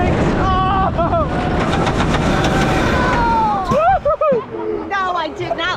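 The Batwing roller coaster at Six Flags America runs into its brakes with a broad rumbling, hissing rush, and riders scream and shout loudly over it, with a sharp drop-off as the train slows.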